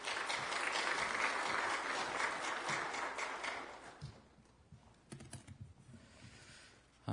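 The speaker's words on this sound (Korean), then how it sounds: "우리 박수로 환영하겠습니다." A burst of loud, dense applause from a church mission conference congregation fills the first few seconds, then tapers off into quieter scattered claps and murmuring.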